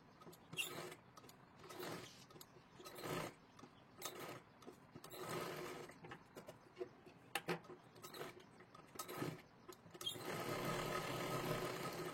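A sewing machine stitches a size 34 katori blouse in repeated short bursts of rapid whirring, pausing between runs, then a longer steady run near the end, close and fairly quiet.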